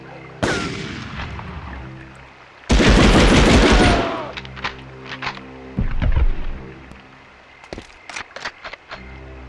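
Gunfire in the 1999 video game Medal of Honor: loud, close bursts of automatic fire, a long sustained volley in the middle, then scattered sharp single shots and short bursts.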